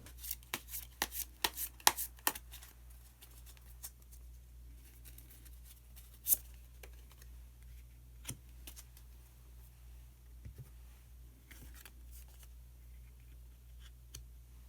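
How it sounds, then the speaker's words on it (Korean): Tarot cards shuffled and drawn, a quick run of soft crisp riffles and flicks early on, then sparse faint taps and slides of cards over a steady low hum, close and quiet with no talking. "그러면은 히든 카드를 한 장 더 뽑아보도록 하겠습니다."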